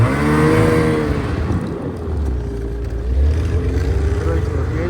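A car driving, heard from inside: a loud steady engine drone with shifting pitch as it revs, rough road rumble underneath, close and continuous.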